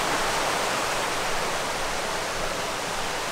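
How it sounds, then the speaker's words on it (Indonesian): A river runs beside a guesthouse near Aling-Aling, a steady broadband rush of flowing water that is close and constant throughout, with no voices. "ini sungai yang bikin adem kalau tidur malam-malam."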